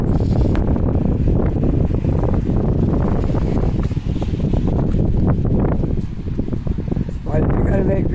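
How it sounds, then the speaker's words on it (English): Strong wind roars and buffets the microphone continuously on a cold, rainy city street, loud and close, with rough gusting noise that could carry rain; faint voices come through underneath. "It's turning windy and cold and rainy."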